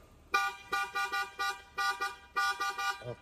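A BMW car horn honks in a rhythmic series of short and double blasts, loud and close, each one cutting off cleanly between beeps.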